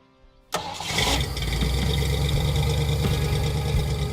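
A 1960s Ford Ranchero engine cranks and fires after a quiet moment, then settles into a loud, steady running rumble close by, with no one talking.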